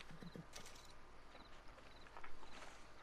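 Horse hooves clip-clopping in the video game Red Dead Redemption 2, a few soft hoof falls at a slow walking pace among faint mechanical clinks, with quiet game ambience around them.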